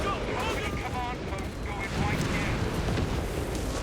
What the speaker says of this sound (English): Here comes the Nebelwerfer.